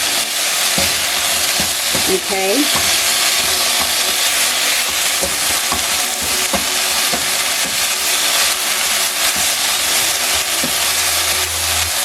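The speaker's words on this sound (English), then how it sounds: "Now I'm getting the frying sensation that I need." Chicken and vegetables stir-fry in a hot pan, a steady loud sizzle and hiss with occasional stirring scrapes, while a voice speaks briefly.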